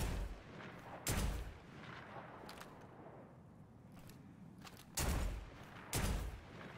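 Skyburner's Oath scout rifle in Destiny 2 fires three loud, sharp booming shots, one near the start and two close together near the end, over a steady low background hum.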